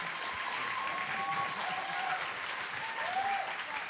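A large audience applauds at a streaming meet-up event, sustained dense clapping filling the room at an even level, with a few faint whistle-like tones rising above the crowd noise.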